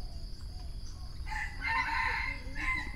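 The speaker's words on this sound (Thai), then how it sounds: "เนี่ยมีเสียงไก่ด้วย" A rooster crows once, moderately far off, over a low steady background hum.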